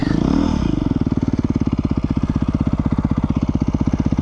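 A Beta 390 RR-S dual sport motorcycle heard up close, its single-cylinder engine revving briefly and then settling into a loud, steady, rapid thumping pulse.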